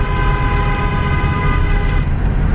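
A car horn blares in one long, steady, loud tone held for a couple of seconds, close by, during a honking prank on a passing driver.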